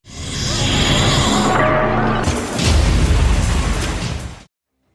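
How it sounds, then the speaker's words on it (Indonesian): A loud burst rings out amid a dense, noisy film soundtrack, followed by a heavy low rumble that carries on for a couple of seconds before cutting off. "segera melepaskan sebuah tembakan ke arah Chen."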